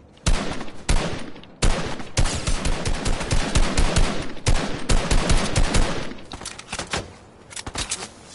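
Loud, close gunfire in the video game Fortnite, with dense rapid bursts and volleys crackling almost nonstop, broken by a few short pauses.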